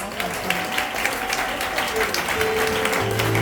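Broad, steady applause from a church congregation at a Sunday service sits at moderate level, with voices mixed into the crowd noise and brief tonal sounds drifting over it.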